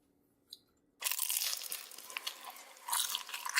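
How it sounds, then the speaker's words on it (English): A loud, close crunch of teeth biting into oven-reheated pizza after a brief quiet pause, followed by sustained crisp crackling chews with a few sharper bursts. "Yep, that's definitely a better crunch than the Reheatza pizza."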